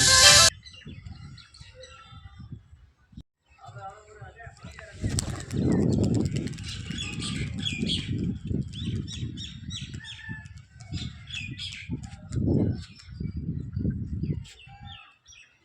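High-flying tumbler pigeons at a full loft give scattered chirps and calls, with fluttering wings, while people talk loudly close by through most of the stretch.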